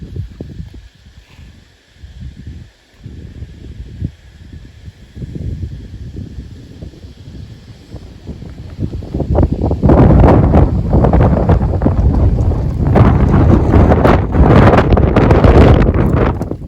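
Wind gusts across a cassava field in hot, stormy weather, starting softly and buffeting the microphone into loud, roaring bursts in the second half.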